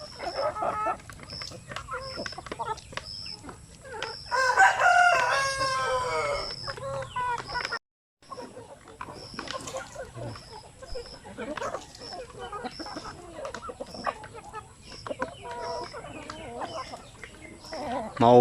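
Pet chickens cluck busily while being fed leftover rice and grated coconut pulp, with a loud rooster-like outburst partway through and a person talking at times over the flock.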